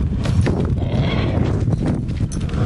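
Horses at a stud farm in Ñuble whinny close by while hooves clop and shuffle over a dense, low rumble of movement, with no talk.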